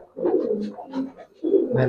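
Giribaz pigeons and their young coo softly and close up in a few short, throaty bursts with brief pauses between them. No voices are heard.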